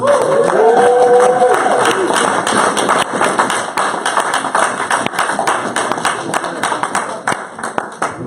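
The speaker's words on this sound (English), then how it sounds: "can we get another round of applause for the House of Reawakening Mind?" An audience gives a round of applause, a dense wash of many hands clapping that fills the room and runs continuously for several seconds, with a brief voice rising above it at the start.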